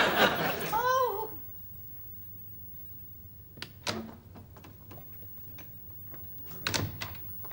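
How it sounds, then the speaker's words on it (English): A door is shut and locked indoors in a British sitcom: a brief laugh opens, then a quiet stretch and a few sharp clunks and clicks from the door and lock, fairly close. "Don't forget to lock the door behind you."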